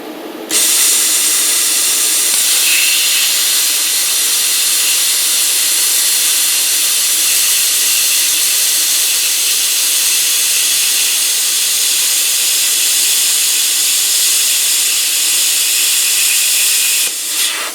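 A cheap Cut-40 plasma cutter slicing metal gives a loud, steady hiss that runs unbroken for about sixteen seconds, starting and stopping abruptly, with no talk over it.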